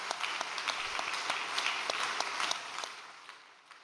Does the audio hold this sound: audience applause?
yes